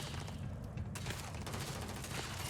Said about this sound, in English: They are shooting me from up the hill.